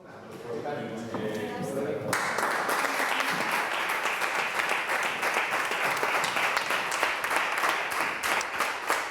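Sustained applause from regional government councillors and the regional president fills the room, steady and loud for most of the stretch after a brief murmur of voices at the start.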